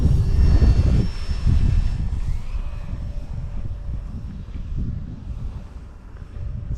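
SBACH 950mm RC stunt plane with an electric motor flying at part throttle, a steady buzzing hum that rises and falls as it passes, mixed with gusty wind noise on the microphone.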